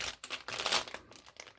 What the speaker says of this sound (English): Ziploc mini bags.